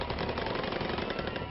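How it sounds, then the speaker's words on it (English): Sustained automatic gunfire from two gunmen during the North Hollywood bank shootout, a dense, continuous rattle of rapid shots that fills the whole stretch at steady loudness with no pauses. "Both gunmen continue to spray the perimeter of the bank with deadly fire"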